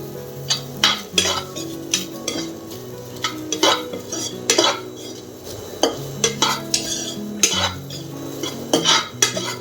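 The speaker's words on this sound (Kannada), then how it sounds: "ಇದೆಲ್ಲ ಚೆನ್ನಾಗಿ ಡ್ರೈ ರೋಸ್ಟ್ ಆಗೋವರೆಗೂ ಫ್ರೈ ಮಾಡ್ಕೊಳ್ಳೋಣ" Spices are stirred and dry roasted in a pan for a Mangalore-style clam sukka, with a spoon scraping and clinking against the pan in an irregular rhythm of close, distinct strokes and no talking.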